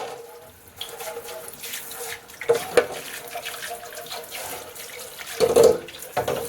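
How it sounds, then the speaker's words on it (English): Tap water runs into a sink while a vacuum tube radio chassis, an Admiral Model 5R12-N, is rinsed, giving a steady close splashing flow with a few louder bursts and gurgles. "I've never really done this before, cleaned the radio in the sink."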